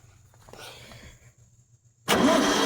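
An old Toro lawnmower engine, reported as smoky, is quiet and faint at first, then surges into a loud, steady running roar for the final stretch.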